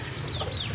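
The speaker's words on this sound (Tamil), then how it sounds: "இவங்க பெட்டக்கோழி, இவங்க சேவல்." Backyard chickens, a hen and a rooster kept in a cage on a terrace, cluck softly and continuously at close range, with no talking.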